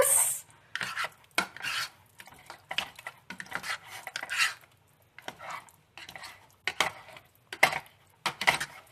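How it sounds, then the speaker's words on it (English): A spoon scrapes and clatters through homemade chana masala in a pot in bursts of stirring. Gaps of quiet come between the strokes, close up and fairly loud. "I'm going to try not to stir so vigorously that I splatter it everywhere"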